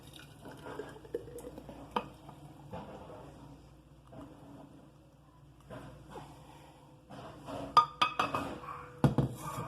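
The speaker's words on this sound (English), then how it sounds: "we'll just take our salsa and we're going to pour it in here" Homemade salsa poured into a glass mason jar in a kitchen, soft wet glugs and drips with a few light glass clinks growing louder near the end.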